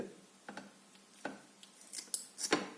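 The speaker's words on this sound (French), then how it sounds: "comme c'est refroidi, on peut enlever le bâton et découper le fil" Scissors snip through wick thread while making a homemade bivouac stove, a handful of short crisp cuts and metallic clicks close by, spaced irregularly over a few seconds with no talking.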